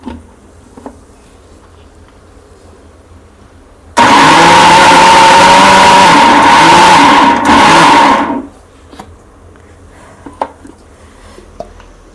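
A kitchen mixer grinder whirs loudly for about four seconds as it briefly pulses cucumber chutney, starting and stopping abruptly, with quiet room tone before and after.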